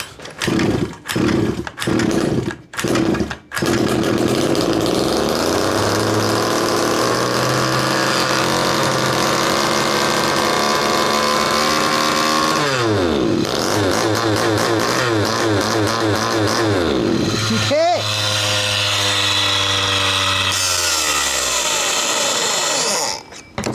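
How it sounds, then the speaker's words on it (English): A small fifth-scale RC model engine sputters through a few short bursts, then runs continuously at a high, buzzing pitch, revving up and down several times, loud and close. "the engine just wants to keep on running"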